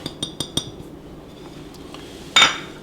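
Seasonings added to a Tex-Mex meatloaf mixture in a bowl with an egg, heard as four quick clinks of a utensil against the dish, then a louder scraping clatter near the end.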